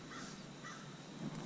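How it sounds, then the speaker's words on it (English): A crow caws a few times at a distance, faint against an open outdoor background during catfishing on a hot day in shallow water. "Did you hear the crow?"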